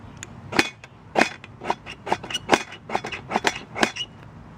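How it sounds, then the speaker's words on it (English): A Leatherman Supertool 200 strikes a Swedish firesteel over a regular cotton ball, giving about a dozen sharp scraping rasps in a steady, uneven rhythm, close and fairly loud, with no voices. "That's how you use your Leatherman to get a fire going."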